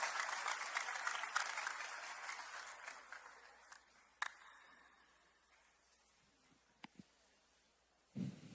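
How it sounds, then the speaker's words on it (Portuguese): Applause from a church congregation, dense clapping that gradually fades away, followed by a few scattered knocks and shuffles in a quiet room. "Dá uma salva de palmas para o Senhor"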